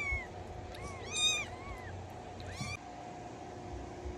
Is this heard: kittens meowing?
yes